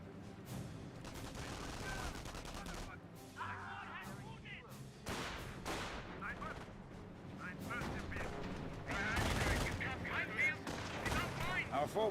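Battle sounds from the Company of Heroes strategy game: dense rifle shots, bursts and heavy artillery booms rolling through, with a voice commentating over the action.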